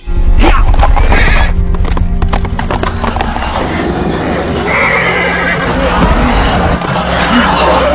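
A horse neighing loudly and clip-clopping as it is ridden through a zombie-filled town in a film scene, the whinny near and prominent over rhythmic hoofbeats and busy background noise.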